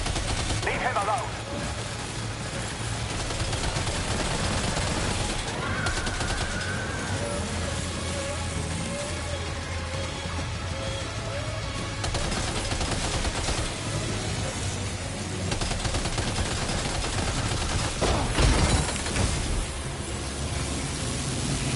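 Gunfire in the video game Death Stranding 2, steady bursts of shots and machine-gun fire over a dense, noisy game soundscape, with voices speaking at times.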